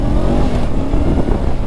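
A motorcycle engine runs during a winter riding lesson, a loud, close, steady low rumble with slight rises and dips in pitch throughout, with no talking.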